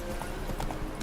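Brief burst of horse hooves from The Witcher 3, a few quick close clip-clop strikes over a steady background rumble.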